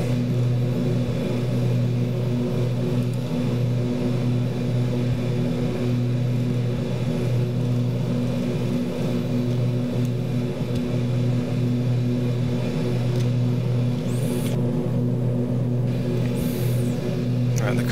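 Steady twin turboprop drone of a King Air B200 in a flight simulator, a constant loud hum with low tonal bands running throughout, with a brief pause in the engine noise near the end.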